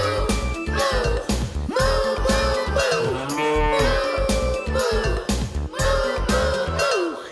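A brown cow moos again and again, loud and close, its drawn-out lowing calls overlapping with a faint jingling bell.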